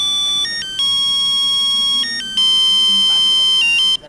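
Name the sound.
mobile phone ringtone, wife calling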